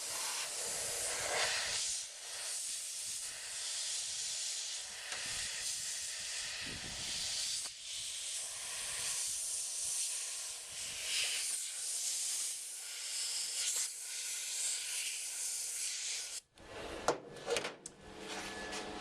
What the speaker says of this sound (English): that nose panel has finally been spot welded in place